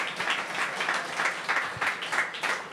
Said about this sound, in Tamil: கைத்தட்டி ஆண்டவருக்கு நன்றி சொல்ல போகிறோம்.